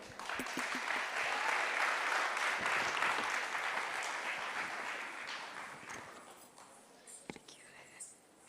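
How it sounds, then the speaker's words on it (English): An audience at a Bharatanatyam classical Indian dance event applauds for the dancer Akshaya, a broad wash of clapping that swells and then gradually thins out, with a few scattered claps and murmurs at the end. "Let's give a round of applause for Akshaya."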